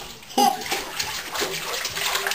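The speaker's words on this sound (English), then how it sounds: "Who's splashing?" A child splashes water in a bathtub, a sharp slap near the start followed by lighter sloshing and dripping, with a voice faintly in the background.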